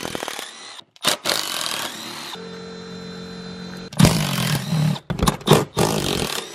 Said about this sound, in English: you do have to take out the four bolts for the seat